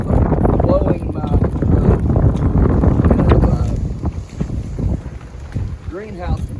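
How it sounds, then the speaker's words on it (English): Strong wind buffeting a greenhouse and rumbling across the microphone in loud, gusty low roars, with someone talking over it briefly near the end. "look how that wind does"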